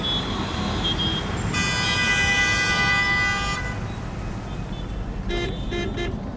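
Car horns blare in dense Bengaluru street traffic, one long sustained honk followed by a few short rapid toots, over a constant roar of engines and road noise.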